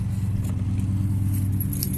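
A large bunch of keys jangles and clinks while someone locks up, with light metallic rattles scattered over a steady low engine-like hum in the background.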